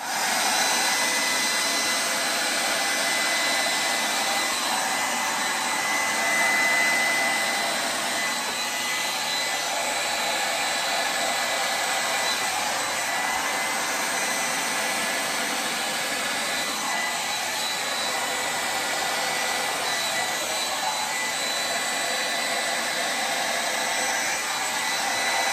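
Air is blown across wet acrylic pour paint in a steady, loud, broadband whoosh that runs without a break for nearly half a minute, with no talking.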